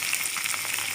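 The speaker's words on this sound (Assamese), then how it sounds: "পটল সিজিলে" Pointed gourd (potol) sizzles in hot oil in a pan, a brief burst of bright, close frying hiss.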